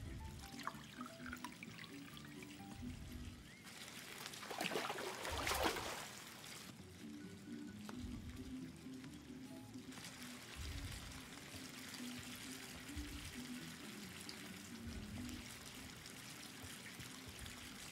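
Water pours and trickles in the video game Life Is Strange 2, with splashing bursts rising and falling over a soft ambient background, no talking.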